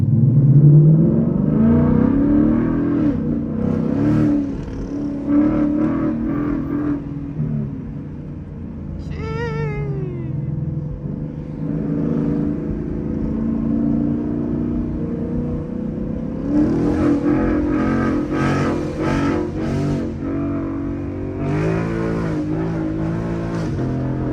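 A full-bolt-on 2014 Camaro SS engine revs loudly in repeated bursts, rising and falling, with a cat meowing briefly in the middle.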